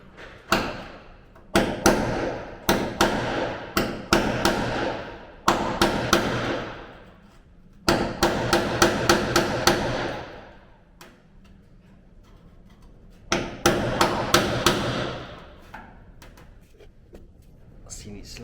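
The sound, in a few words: hammer and chisel cutting through part on Ford Capri restoration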